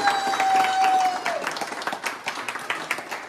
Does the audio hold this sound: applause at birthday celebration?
yes